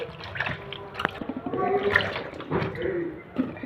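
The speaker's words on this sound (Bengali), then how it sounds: "বেগুনটা আমি ভালো করে কষলে ধুয়ে নিচ্ছি" Cut eggplant pieces are washed in a bowl of water, with close splashing, sloshing and dripping in short irregular bursts.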